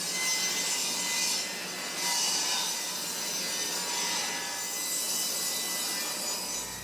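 Wood pieces for a garden trellis are being sawn in a steady, continuous rasping cut. The strokes rise and fall in loudness and sound close, with no voices.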